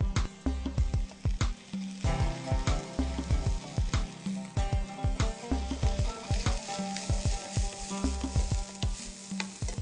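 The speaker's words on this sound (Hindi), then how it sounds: "अब लहसुन और प्याज को आप 1 मिनट के लिए फ्राई करें" Garlic and onion frying in a pan with lemon juice added, a loud close sizzle under repeated rhythmic clinks and scrapes of a spoon stirring against the pan, no voices.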